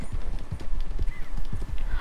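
Horse hooves clip-clop in a quick, uneven gallop rhythm in Red Dead Redemption 2, close and fairly loud, with a faint whinny-like cry near the end.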